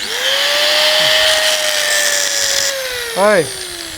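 An angle grinder wired straight to 220 volt AC mains runs at a steady whining pitch, spinning up and holding a high motor tone, then briefly changing near the end.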